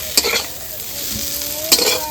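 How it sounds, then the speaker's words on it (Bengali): Close, steady sizzle of eggplant frying in hot oil, broken by two brief scraping stirs in the pan. "ভালো করে বেগুনটা একটু ভালো করে ভাজতে হবে ভালো করে ভেজে নিয়েছি"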